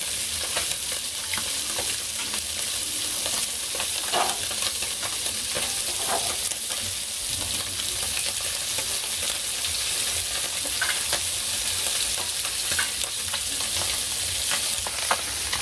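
Small fish fry in a hot pan in a village kitchen, with a dense, continuous sizzle and crackle throughout. Occasional sharper pops and scraping stir sounds rise above it.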